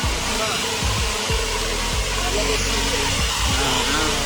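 A traditional Nepali water mill (ghatta) turned by flowing water, giving a loud, continuous rushing roar with a steady low mechanical rumble and faint rhythmic knocks underneath.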